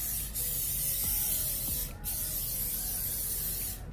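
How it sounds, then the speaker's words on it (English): Short hissing bursts of cooking spray coating the top of oven baked fried chicken, close and fairly soft over quiet kitchen background noise. "And then get your cooking spray and then spray the top"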